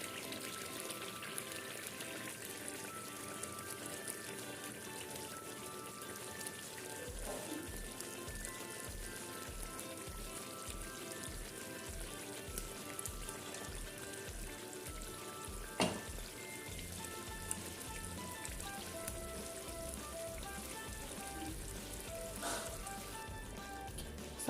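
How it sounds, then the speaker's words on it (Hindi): Chicken koftas drop into a pot of simmering gravy with a little added water, producing a soft continuous bubbling and sizzle with faint splashes and occasional clinks, fairly quiet throughout. "सारे इसमें हमने कोफ्ते डाल दिए हैं।"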